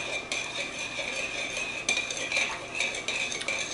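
A spoon stirs a honey, yeast and water mixture for French bread, clinking and scraping against the bowl in quick, uneven strokes close up.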